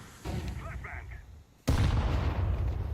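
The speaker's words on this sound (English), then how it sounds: "I'm throwing a flashbang." A flashbang grenade goes off in Counter-Strike 2: a sudden loud bang after a brief lull, then a sustained ringing, noisy tail. Faint in-game chatter comes before it.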